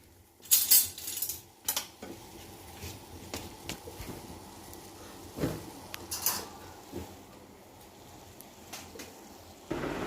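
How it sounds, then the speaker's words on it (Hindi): Dishes and cutlery being put away in a home kitchen: scattered clinks and clatters of utensils and plates, a few sharper knocks, moderately close, with no talking. "और यहाँ मैं बर्तन लगाने आ गई थी,"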